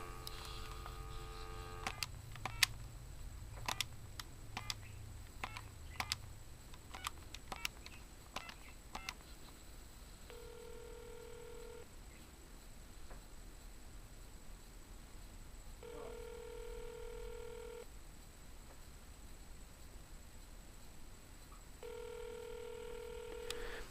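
Telephone keypad dialing on a magicJack phone line: a quick run of sharp DTMF tone beeps over a steady dial tone, followed by repeated long ringback tones, with no talking.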